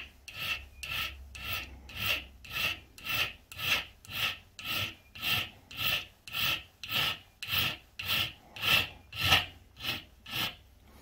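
A hand file dresses the cut ends of bolts held in a vise with aluminium jaws, making a steady, rhythmic rasp of about twenty even back-and-forth strokes, close and fairly quiet.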